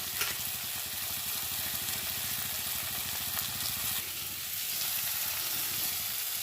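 Eggplant and potatoes fry in a pan with a steady, even sizzle that crackles continuously throughout, holding at a constant loudness with no voices.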